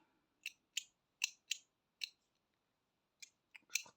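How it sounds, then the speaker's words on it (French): Scissors snipping through yarn while making an amigurumi hedgehog's arms and legs, a run of sharp, close, quiet clicks spaced irregularly, with a short pause before a final quick cluster. "Je reprenne mes ciseaux."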